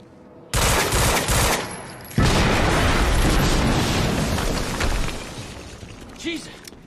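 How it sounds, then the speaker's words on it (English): Explosions and sustained gunfire in the video game Quantum Break, a loud, dense barrage of blasts and rapid shots that starts abruptly, surges again after a brief dip, then gradually eases off. "we just heard an explosion near the harvesting perimeter"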